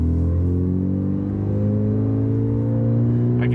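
Mitsubishi Evo 8 with a titanium aftermarket exhaust revs steadily, a loud, close, droning engine note with strong low harmonics that holds across the whole stretch, no talk over it.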